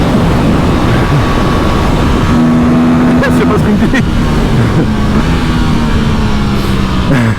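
Aprilia RS 457 motorcycle engine droning loud and steady at close range while riding, with shifting engine tones and a short spoken remark over it.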